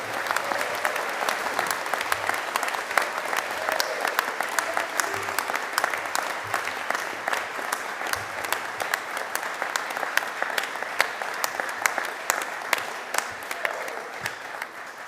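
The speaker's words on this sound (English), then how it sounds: "please, everyone, can we give our graduates a big round of applause again?" Sustained audience applause for graduates at a Faculty of Arts & Society ceremony fills the hall: dense, steady clapping from a large crowd that carries on evenly without a break.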